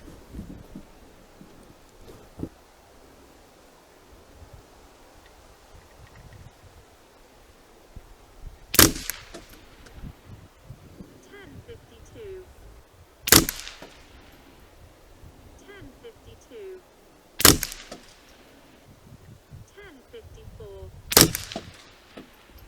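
Four sharp, loud rifle reports from a .22LR semi-automatic biathlon rifle firing SK ammunition at a range, spaced several seconds apart with quiet handling noise between shots.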